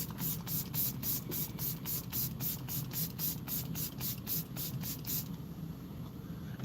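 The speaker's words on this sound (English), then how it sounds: "let's use the new peach setting spray" Repeated short bursts of peach setting spray misted close by, about fifteen quick hissing pumps in steady rhythm, with a faint background hum and no talking.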